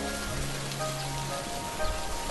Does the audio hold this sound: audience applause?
no